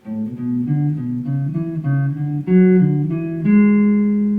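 A clean electric guitar plays paired notes moving up and down in short sustained steps, close and fairly loud, with no voices.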